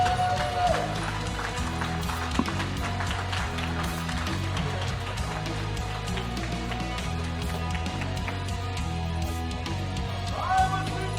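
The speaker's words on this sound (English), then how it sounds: "Big round of applause." Audience applause for an esports team walking on stage at a tournament grand final, a dense, continuous patter of many hands clapping that fills the room, with faint voices mixed in.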